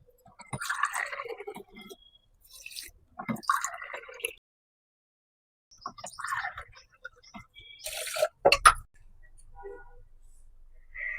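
Water poured from a glass onto sugar in a pan to make syrup for gulab jamun. Three separate short pours splash and trickle, with quiet gaps between them.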